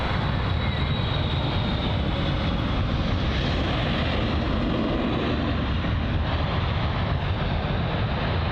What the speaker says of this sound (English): It is a noisy aircraft, the A330.